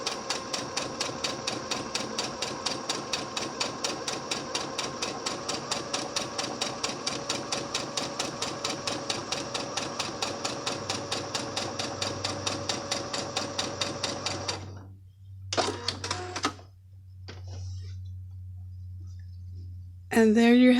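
A sewing machine runs a regular-length stay stitch along a fabric edge within the seam allowance, a loud, steady rapid needle clatter for about fifteen seconds, then stopping, followed by brief handling sounds and a low hum.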